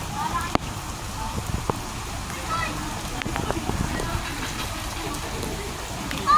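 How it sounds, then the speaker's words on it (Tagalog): Steady heavy rain patters and hisses throughout during Typhoon Carina and monsoon flooding on Llano Road, Caloocan City, with scattered louder drips and splashes nearby and faint voices in the background. "Madagdagan pa yan dahil tuloy-tuloy pa ang ulan oh"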